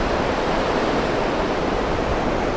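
Tide water rushes and surges along a shore in Carentan, a dense continuous roar of moving water, steady and fairly close, with no voices.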